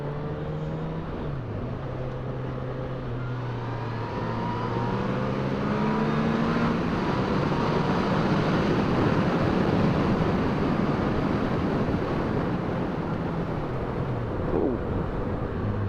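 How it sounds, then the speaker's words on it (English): Suzuki Bandit motorcycle engine revving in low gear while riding uphill, a steady loud drone with rising and falling pitch that climbs as the revs build, with wind rush throughout. "I like to go up here in low gear and rev my bike a bit"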